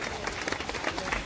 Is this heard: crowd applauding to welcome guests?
yes